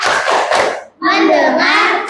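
Children in a classroom clap a rhythmic routine together: a burst of sharp unison claps, a brief pause, then a second dense burst with voices chanting over it.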